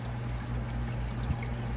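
Aquarium water from a fish bag is poured steadily while new tetras from a big box store are acclimated to a 75-gallon tank, a continuous close trickle with a low hum behind it and no talking.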